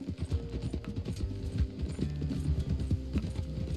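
A ridden horse's hooves clip-clop at a steady walking rhythm on a road in Red Dead Redemption 2, close and moderately loud, with no talk over them.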